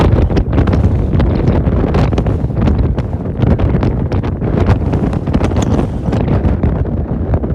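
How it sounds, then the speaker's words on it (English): Strong outflow wind gusts from a supercell thunderstorm over Nebraska roar continuously across the microphone, a loud, dense rumble with buffeting surges throughout and no speech. "Strong outflow gusts here."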